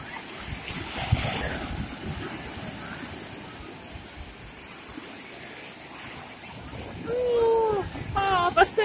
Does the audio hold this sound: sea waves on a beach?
yes